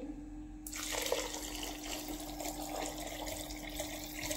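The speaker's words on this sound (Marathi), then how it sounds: "आता यामध्ये पाणी घालून घेते।" Water pouring steadily into a pot of mixed vegetables for pav bhaji, a continuous splashing gush that starts abruptly and runs without pause, close and fairly loud.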